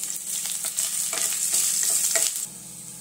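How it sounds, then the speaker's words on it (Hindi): Ginger garlic paste fries in hot oil for vegetable momos, a close, continuous sizzle with quick stirring scrapes that drops to a quieter hiss near the end. "फिर इसके बाद हम जिंजर गार्लिक का पेस्ट वो कर लेंगे फ्राई अच्छे से उसको।"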